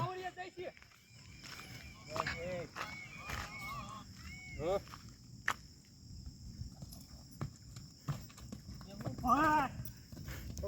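Horse hooves clip-clop on the ground at an outdoor horse jumping game, in scattered close thuds mixed with loud bird honks and people talking throughout.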